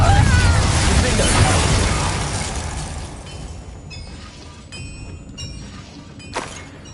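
Confringo blasting spells exploding in Hogwarts Legacy, a loud rumbling blast fading over a few seconds into quieter crackles and a few faint pops.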